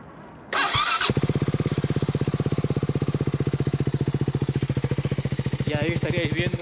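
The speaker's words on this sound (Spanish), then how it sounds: "Os voy a encender la moto para que veáis cómo suena." A Voge 300 AC motorcycle engine cranks and catches, then settles into a steady, loud, rapid idle close by, recorded near the exhaust, with a brief squeal near the end.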